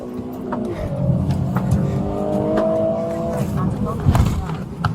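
An SUV speeds along with engine roar and tires squealing and skidding, while voices shout over the driving noise.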